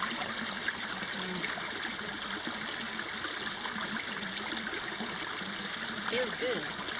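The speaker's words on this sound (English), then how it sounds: "the old spring is running pretty good" An old spring running in a desert slot canyon at China Ranch near Tecopa, California, a steady soft trickling wash throughout with a brief faint voice near the end.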